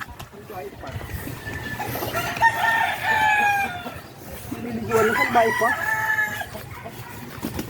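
A broodcock gamecock rooster, freshly bathed, crows twice in long, strained calls close by, with people talking over and between the crows.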